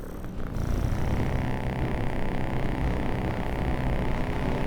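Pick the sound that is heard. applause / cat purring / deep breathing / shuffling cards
cat purring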